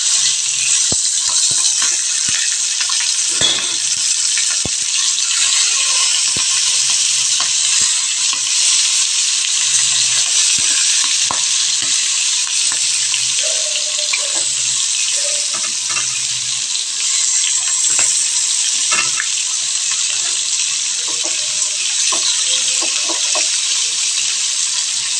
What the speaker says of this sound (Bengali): এখন এই মাথাটাকে আমি ফ্রাই করতে বসিয়ে দেব।